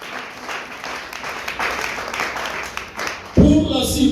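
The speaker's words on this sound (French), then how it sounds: "Est-ce qu'on peut acclamer pour la parole de Dieu?" A church congregation breaks into applause for the word of God, a steady spread of clapping that builds toward the end while other sounds mix in.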